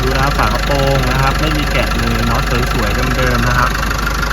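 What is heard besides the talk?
Isuzu D-Max 1.9 turbo pickup engine idling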